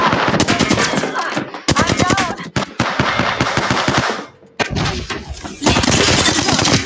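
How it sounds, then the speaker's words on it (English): Heavy automatic gunfire in Apex Legends ranked play, loud close bursts of rapid shots with short gaps between volleys, under a player's brief speech. "I'm fucking taking fire"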